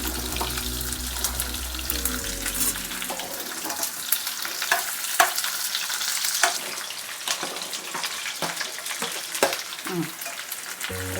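Cauliflower pieces frying in oil for a pickle, a steady close sizzle with scattered spatters and stirring scrapes, a low hum fading out in the first few seconds.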